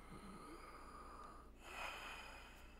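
Breaths from a character during a doctor's examination in Red Dead Redemption 2, a faint inhale followed by a louder exhale, heard alone over a steady low hum.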